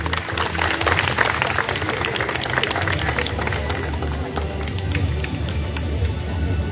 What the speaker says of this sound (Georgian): აპლოდისმენტები კიდევ ერთხელ